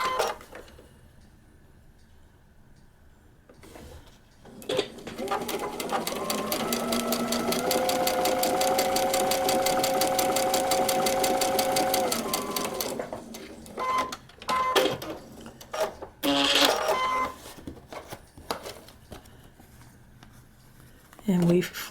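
A sewing machine runs a steady, continuous line of stitching through a paper-pieced quilt block for several seconds close by, followed by a few short bursts of stitching, with a voice talking between them.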